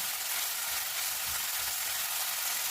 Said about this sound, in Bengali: এবার আমি পনিরগুলোকে ভালো করে ভেজে নেব।